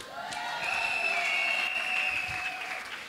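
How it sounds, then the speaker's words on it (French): Applause from an audience at a university graduation ceremony, steady clapping that swells and holds for a few seconds at moderate distance, with no voices over it. "Même si lui refuse d'acclamer, moi j'acclame."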